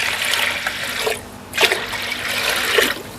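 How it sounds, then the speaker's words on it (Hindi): About two litres of water is poured into a pressure cooker of lentils for haleem, giving a loud, continuous splashing gush with a short lull in the middle. "डाल देंगे तकरीबन 2 लीटर पानी"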